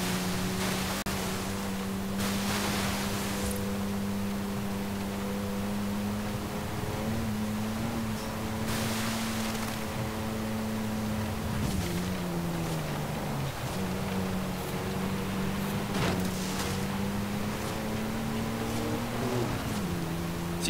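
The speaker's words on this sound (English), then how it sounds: "it's not the sportiest sounding V6 going, but it's definitely a bit more audible" A V6 engine in a 2019 Toyota 4Runner TRD Pro within the Forza Horizon 5 racing game drones steadily at a moderate level, its pitch gently rising and dipping as revs shift, with no talking.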